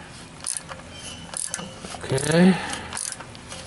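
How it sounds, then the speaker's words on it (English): A ratcheting socket snugs a bolt on a 2014 Toyota Camry SE, with soft metallic clicks and a short grinding squeak, while a voice briefly speaks. "your special socket on, and you snug it a little bit more"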